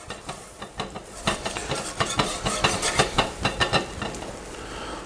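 A lidded pot of lobsters comes to a boil for a prosecco cream sauce, the lid rattling in quick, irregular metallic clatters over a steady steamy hiss, close and fairly loud, with no talking.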